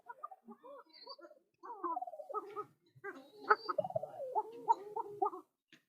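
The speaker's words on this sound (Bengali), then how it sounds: "ডাক শুনতে পাচ্ছেন, আশা করি আপনাদের কিছু ডাক শোনাতে পারলাম। এটা অ্যারাবিয়ান কোখা" Arabian Kokha pigeons with head crests and feathered feet cooing at close range, with repeated warbling calls in uneven bursts that continue almost without a break.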